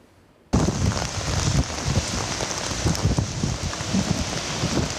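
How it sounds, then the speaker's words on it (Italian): Wind and heavy rain lash the Treviso countryside during a spell of bad weather, a loud, steady roaring hiss with gusty low rumbles that begins abruptly and continues without any voices. "vento e pioggia non hanno dato tregua"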